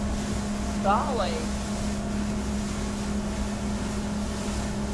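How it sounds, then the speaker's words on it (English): Steady low drone of a pilot boat's single 400-horsepower outboard motor running nearby, continuous and loud, with a voice briefly exclaiming over it. "that pilot boat is loud, isn't he?"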